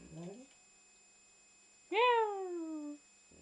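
A single clear cat meow, drawn out and falling in pitch, close and fairly loud, follows a brief murmured voice at the start, with quiet room background between.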